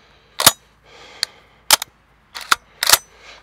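Sharp, loud reports from a Remington Versa Max shotgun, several spaced shots over a few seconds, each followed by a brief rumbling echo, with no talking between them.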